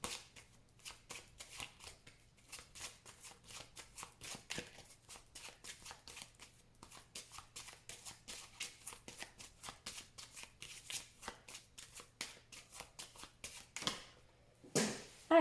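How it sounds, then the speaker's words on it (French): Tarot cards being shuffled and cut: a steady run of crisp riffling flutters repeating for the whole stretch, close and fairly quiet, with a sharper slap of the deck near the end and no talking. "je vais faire une coupe avec le tarot que j'utilise pour les consultations"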